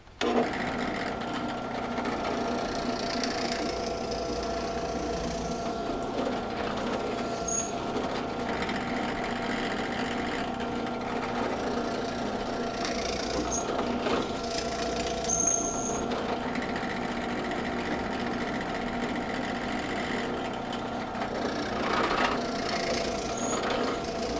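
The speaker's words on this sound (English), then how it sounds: "Let's get it drilled out." A power drill bores out a hole while building a DIY zipline brake, giving a long, continuous, close motor whir with a steady droning hum and occasional light knocks. Nobody speaks.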